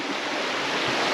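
Wilson Creek rushing in a steady, broad hiss of flowing water, continuous and fairly near with no voices.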